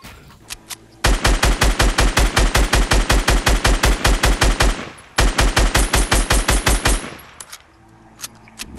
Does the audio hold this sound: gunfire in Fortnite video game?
yes